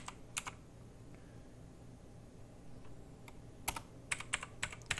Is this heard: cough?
no